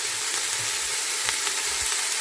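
Vegetable stock pot melted in a pan, sautéing over lowered heat with a steady, soft broadband sizzle and a few faint clicks, no voices.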